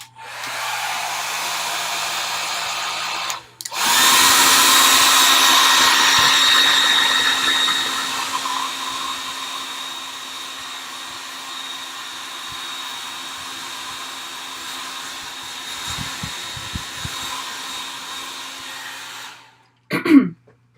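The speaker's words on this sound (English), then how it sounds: "I'm going to set this layer real quick." A handheld hair dryer blows over a wet watercolor painting layer, a steady, close whooshing roar that runs for about fifteen seconds before switching off, followed by a couple of small clicks.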